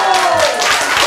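An audience clapping at a church gathering, a brief burst of dense, loud hand claps with a voice faintly underneath.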